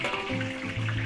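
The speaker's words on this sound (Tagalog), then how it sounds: "Prito po natin dito yung ating lechong kawali." Lechon kawali pork pieces frying in hot oil in a Filipino cooking setting, a steady bubbling sizzle that runs continuously with no voices over it.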